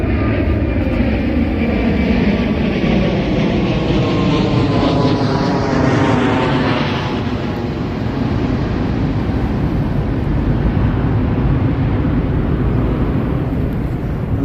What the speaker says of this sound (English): sure you heard that plane above us